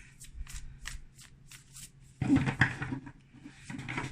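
A Super Attractor oracle card deck is shuffled by hand: a run of soft, quick riffling flicks followed by a louder, denser burst of card shuffling, close and with no talking.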